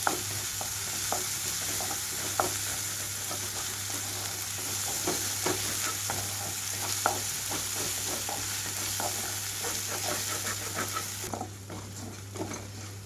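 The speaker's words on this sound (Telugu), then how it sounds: "అల్లం వెల్లుల్లి పేస్ట్ వేసుకొని వేయించుకుంటాను థర్టీ సెకండ్స్ పాటు మీడియం ఫ్లేమ్లో ఉంచుకుంటున్నానండి" Onions with ginger garlic paste frying in a pan over a medium flame: a continuous bright sizzle close by, with scattered scraping taps of a spoon stirring through it, the sizzle easing slightly near the end.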